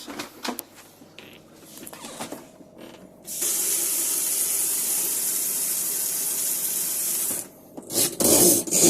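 Water gushes steadily from a tap in a Swift Basecamp Plus 2 caravan after the pump is switched on, a broad hiss lasting several seconds, preceded and followed by clunks and rustling handling noises.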